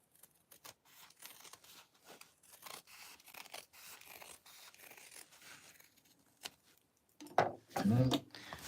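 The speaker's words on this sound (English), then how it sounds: "I'm going to trim this down a bit." Scissors snip and trim fabric for a handmade travel organizer, a run of soft, quiet cuts close by, ending in a louder burst of rustling and handling of the material.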